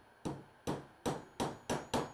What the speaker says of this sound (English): And a small hammer with gentle taps